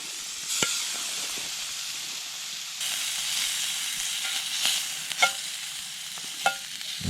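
Shrimp frying in butter in a pan at a lakeside truck campsite, a steady soft sizzle with a few faint clinks and stirring taps, no voices.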